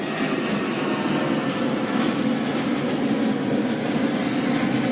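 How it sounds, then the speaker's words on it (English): A steady, broad roar of a plane passing overhead at a beach, continuous and fairly distant, with no talking. "There's a plane going above my head"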